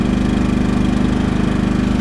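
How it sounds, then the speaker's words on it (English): Champion 3100/2800 generator running close by, started by remote after six months in storage, a loud steady chugging engine hum with rapid even pulsing throughout and no speech. "You hit a one-time start and she will automatically choke itself and run."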